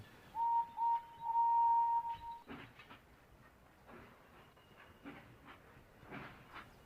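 A steady train whistle toots in three bursts, the longest last, followed by quieter rumbling and clattering of a moving train.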